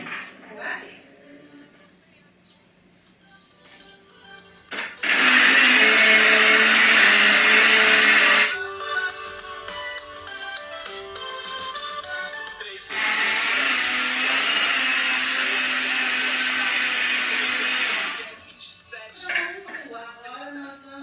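A kitchen blender whirs loudly, mixing cake batter with milk in two long steady bursts separated by a quieter pause, with someone talking softly before and between the runs.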